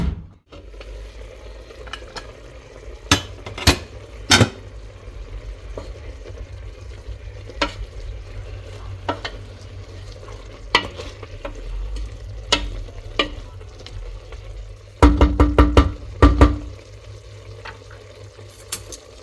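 Chicken giblets, liver and gizzards sizzle steadily in a frying pan while a utensil scrapes and knocks against it in scattered strokes, with a denser burst of stirring clatter near the end.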